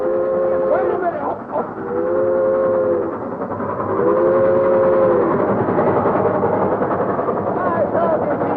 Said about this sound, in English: Well, stop the train.